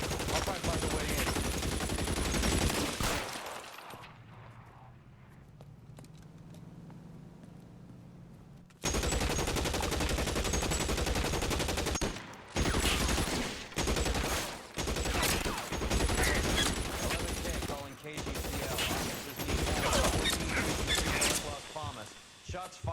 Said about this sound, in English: Shots fired and officers need help at 1452 North Las Palmas